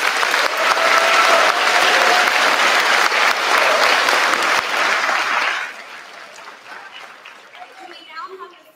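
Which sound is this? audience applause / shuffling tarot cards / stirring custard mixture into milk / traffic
audience applause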